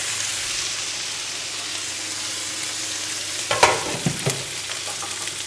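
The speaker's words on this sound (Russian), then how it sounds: "И перемешиваем лук." Onions fry in a pan with a steady sizzle, joined briefly by a few close scraping stirs partway through before the sizzling continues alone, with no voices.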